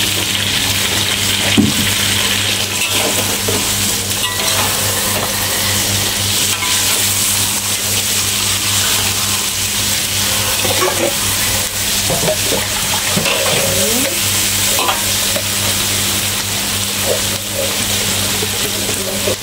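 Spanish mackerel frying in a pan for a ginger fish dish, a steady close sizzle with scraping stirs running throughout, with no talk.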